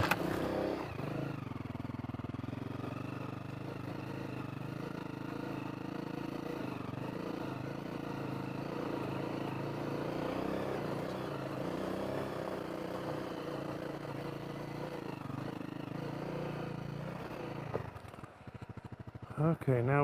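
A Honda CRF250L dual sport motorcycle rides along steadily, its single-cylinder engine droning loud and close with wind rumble for most of the stretch before easing off and clattering near the end.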